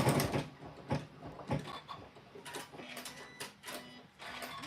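A home sewing machine runs a quilt block seam in short, uneven bursts of rapid mechanical stitching, with small clicks and pauses between runs and no talking.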